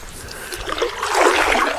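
River water flows and splashes past mill stream sluice gates at Hoxton Mill on the River Waveney, a close, steady rushing and trickling that swells slightly louder toward the end.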